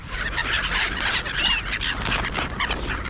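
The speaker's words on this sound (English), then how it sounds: "Look at our little pigeon." Birds, including pigeons, cluster during an evening feeding with nuts as treats, with dense overlapping chirps, coos and squawks and fowl-like calls in a continuous, busy chorus close by.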